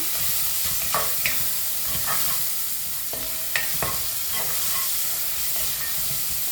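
Onions sautéing in a pan with salt and turmeric for mutton kothu give a steady close sizzle, broken by scattered scrapes and clinks of a spoon stirring against the pan.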